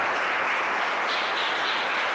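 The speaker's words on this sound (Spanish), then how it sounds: "Denle un aplauso al Señor en esta hora" Church congregation applauding at a worship service, a steady dense wash of clapping with no pauses, fairly loud and filling the space, with no one talking over it.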